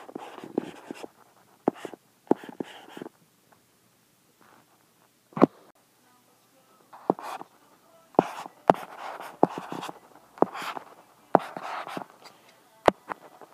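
Pen or marker strokes drawing a chemical structure on a board come as bursts of scratchy writing and sharp taps, with pauses between strokes. Close and fairly loud, with no talking.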